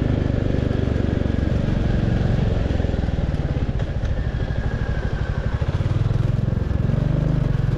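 A motorbike climbs a hilly road between Siliguri and Kurseong toward Darjeeling, its engine throbbing loud and close with steady, rumbling revs that dip and swell as it pulls up the slope.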